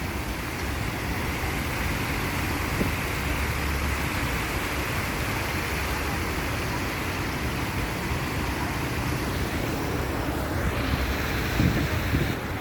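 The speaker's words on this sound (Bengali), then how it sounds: "ঠান্ডা পানি প্রবাহিত হচ্ছে" A fountain in Bari, Italy, with cold water pouring in a constant broadband rush that holds steady for over twelve seconds, near and moderately loud, with faint wind buffeting and no speech.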